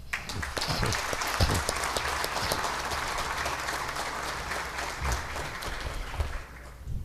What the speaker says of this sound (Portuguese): A esses valorosos homens, peço uma salva de palmas.